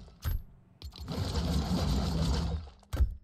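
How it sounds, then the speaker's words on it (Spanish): Tomura scythe pickaxe in the Fortnite video game, a short sharp hit followed by a dense rattling, whirring burst lasting about two seconds, then a final sharp impact, with no talk. "este es el pico de Tomura, como se vería. Muy fachero y así es como suena"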